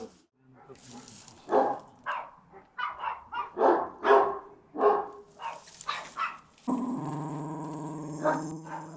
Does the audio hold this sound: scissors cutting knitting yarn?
no